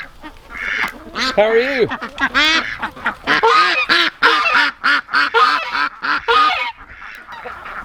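A goose kept as a farm guard goose honks loudly and repeatedly up close, a long run of harsh nasal calls with brief gaps, and a person speaks a short greeting among them.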